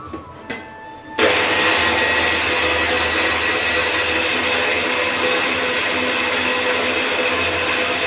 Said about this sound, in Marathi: हे सगळं मिक्सरमधून काढून झालं आता